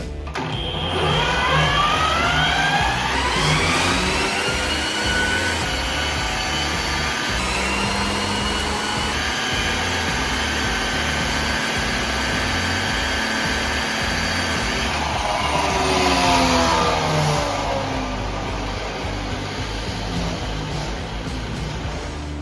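Sustained high electric motor whine of a BMW car converted to electric power, accelerating in fourth gear, the pitch climbing steadily under strong road and wind noise, dipping briefly and rising again, with no talk throughout.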